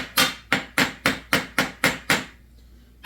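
A hammer strikes a rivet head on a bar tip eight times in a quick, even rhythm, each metallic tap sharp and close, then a brief pause before one more blow.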